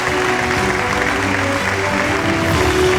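An audience applauds at the TV9 Bangla Suswasthya Award 2026 ceremony as a hospital director is called to the stage, giving moderate, steady clapping mixed with sustained musical tones.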